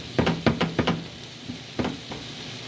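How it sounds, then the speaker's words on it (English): Vegetables sauteing in a pan brought to high heat for a vegetarian stir fry, with a soft steady sizzle under several clear knocks and clatters of a utensil against the pan, close and fairly quiet. "Just give it a quick saute here."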